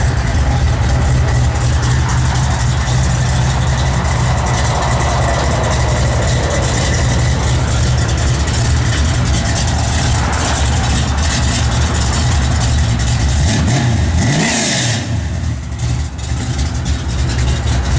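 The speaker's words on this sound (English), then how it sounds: "Well, that car sounds mean." A 1973 Chevrolet Camaro sits idling with a steady deep rumbling engine note, loud and close, holding evenly throughout with a brief blip near the end.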